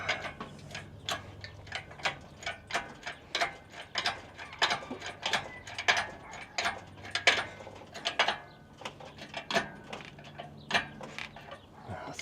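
A hand ratchet cranked while working on a radiator, producing a rapid train of sharp metallic clicks in uneven bursts that run close and clear, with brief pauses between strokes.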